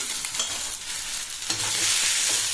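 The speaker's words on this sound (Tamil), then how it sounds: "இந்த எண்ணெயிலேயே கொஞ்சம் வதக்கலாங்க." Cauliflower, peas and beans sauté in oil for a vegetable sabji, a steady close sizzle with irregular scraping stirs of a spoon against the pan and no voices.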